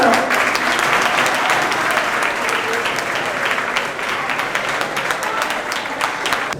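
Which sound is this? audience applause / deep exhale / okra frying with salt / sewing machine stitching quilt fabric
audience applause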